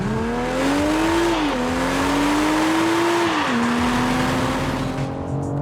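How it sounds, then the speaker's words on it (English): A 2021 BMW M440i Coupe engine in sport mode revs loudly and climbs in pitch through two gear changes, a close, continuous rising roar. "The engine note really isn't too bad at all"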